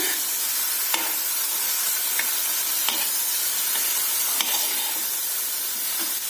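Boiled corn sautés in a pan with a steady, dense sizzle and hiss, broken by occasional sharp spoon knocks and scrapes against the pan.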